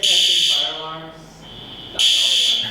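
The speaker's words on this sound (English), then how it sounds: "Speedway is testing fire alarms." An office fire alarm under test blares a loud, steady high-pitched buzzing tone that cuts out briefly mid-clip and then resumes at full volume.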